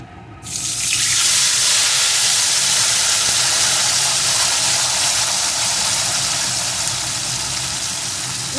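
Spice paste for a crab kosha curry drops into hot oil and breaks into a sudden, loud, sustained sizzle that hisses steadily and close up, easing only slightly over several seconds.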